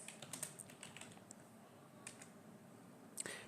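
Faint, quick keystrokes on a computer keyboard entering a command, a loose run of soft clicks followed by a pause and a final sharper tap, close and quiet with no speech.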